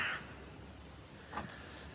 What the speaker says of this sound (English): Every time I want to film something, the flipping crows kick off.